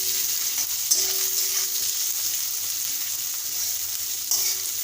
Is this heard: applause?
no